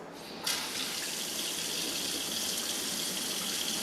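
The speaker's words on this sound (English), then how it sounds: "now we'll turn on the water" Water bursts on from a kitchen faucet fitted with a lead-removing filter, then runs in a steady, even rush into the sink, close and continuous with no talking.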